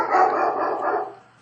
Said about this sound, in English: my doggy is barking something